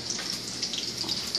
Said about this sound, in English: The water is boiling for the pasta.